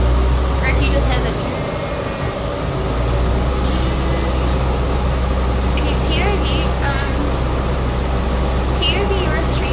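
Inside a moving city bus, a steady loud engine and road rumble with ventilation hiss runs throughout, while a person talks close by over the noise.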